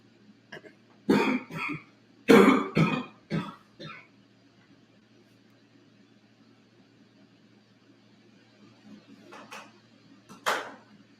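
Several harsh coughs in a cluster early on, then quiet, followed by a couple more isolated coughs near the end.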